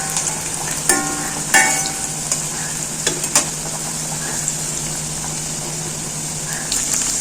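Cabbage pakoda deep-frying in hot oil, a loud, steady bubbling hiss up close, broken by a few sharp clinks and scrapes of a slotted spoon.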